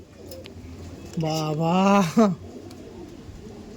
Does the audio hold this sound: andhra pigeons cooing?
yes